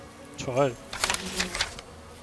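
Bees buzz in the video game Where Angels Cry 2, a brief droning hum under a short spoken word and a soft ringing tone.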